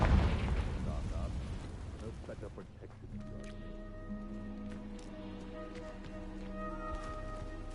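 A Confringo explosion spell cast in Hogwarts Legacy: a loud burst erupts at the start and rumbles away over a few seconds, leaving quiet tonal game music behind.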